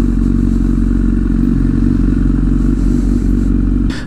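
A Honda CBR motorcycle engine runs loud and close with a steady, throbbing drone, a brief clatter and scrape breaking in just before the end.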